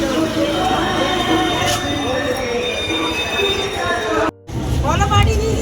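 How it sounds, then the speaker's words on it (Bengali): At Birati railway station, a train rumbles loudly and steadily. Thin metallic wheel squeals and whines sit above the rolling noise, and there is a short gap before the roar resumes. "বিরাটি স্টেশনে নামলাম এখন ট্রেন ধরবো"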